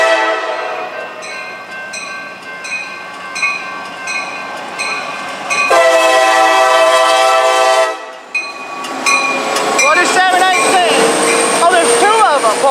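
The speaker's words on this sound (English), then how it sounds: "It's a former Conrail locomotive leading him." A CSX freight train led by a former Conrail diesel locomotive and two SD70s rumbles past with a loud, sustained horn blast midway, followed by clattering wagons; voices talk faintly over it near the end.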